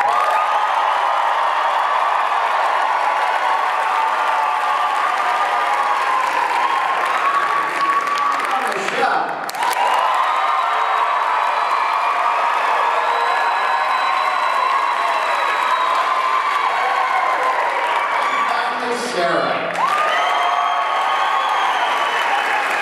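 An audience at a slideshow karaoke night claps and cheers to vote for a contestant named Scott, sustained applause with whoops and shouts rising over it, briefly dipping twice before swelling again.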